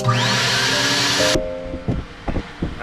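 A vacuum cleaner runs loud and steady with a high whine, cleaning a rental car's interior. It cuts off abruptly partway through, leaving quieter knocks and rustling.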